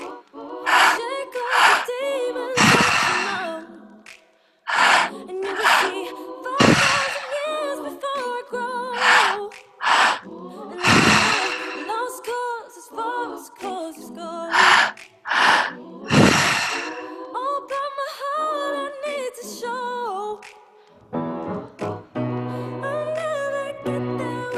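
Deep, forceful breathing during a guided breathwork session, with long loud inhales and sighing exhales repeating close up over soft background tones for over twenty seconds.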